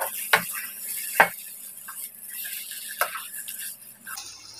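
Egg chop filling for Bengali-style egg devils being mixed in a bowl, with soft squelching and scraping strokes and a few sharper clinks against the bowl, close and fairly quiet with no talking.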